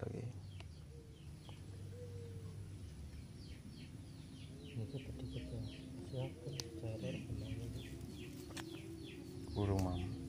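Outdoors at a fishing spot, birds give repeated chirping calls at moderate distance over low background noise and faint voices.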